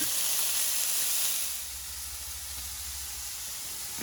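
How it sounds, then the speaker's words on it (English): Steady hissing sizzle of meat and mushrooms frying in a hot pan for Joe's Special, loud at first then settling to a softer, continuous crackle. "The sizzle, baby."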